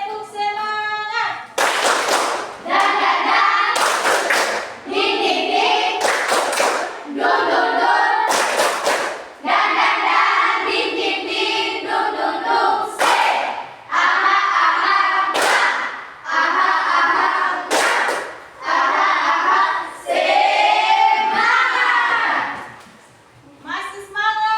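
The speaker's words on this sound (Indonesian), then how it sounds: "Tepuk semangat." A group in a teacher-training class performs a rhythmic spirit clap, sharp loud unison claps in a repeating pattern alternating with chanted voices, close and energetic throughout.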